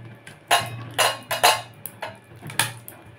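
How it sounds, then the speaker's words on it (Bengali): A ladle mashing boiled pumpkin and potato in a metal pot, six or seven distinct loud knocks and scrapes at an uneven rhythm, close and without talk. "সেদ্ধ করে জল ঝাড়িয়ে আর হাতা দিয়ে দিয়ে এইভাবে আমি ম্যাশ করে নিচ্ছি"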